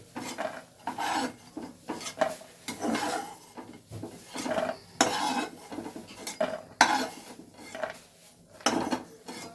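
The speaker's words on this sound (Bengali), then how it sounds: "বড়িগুলো ভেজে আমি একটা পাত্রে তুলে রাখছি।" Fried lentil dumplings (bori) are moved into a bowl, giving repeated close scraping and clinking scrapes of utensil against dish in irregular bursts, with no voices.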